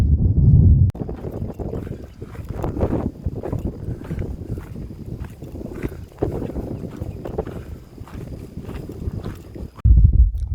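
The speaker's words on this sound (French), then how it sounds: "il y a beaucoup de vent, donc je redoute beaucoup le bruit du vent dans le micro" Gusty wind on a hiking trail buffets the microphone with low rumbling thumps and roaring surges, rising and easing over a few seconds.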